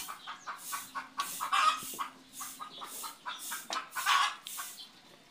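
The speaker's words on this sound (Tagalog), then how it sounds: "Nagre-react yung manok oh." Several chickens cluck near the microphone in short, repeated bursts, a rhythmic run of clucks over about five seconds.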